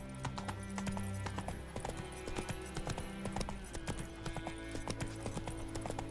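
In The Witcher 3: Wild Hunt, a horse trots along with a steady, rapid clip-clop of hooves over a continuous game soundtrack and ambience, the footfalls crisp and close throughout.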